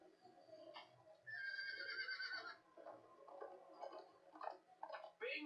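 A horse in the video game Minecraft Story Mode lets out a faint whinny with a wavering, drawn-out call in the middle of the moment. Soft game sounds and a few thumps surround it.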